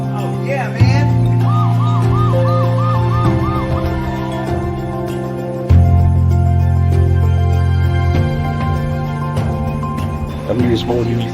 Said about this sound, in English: We thought Brody would like his own police car.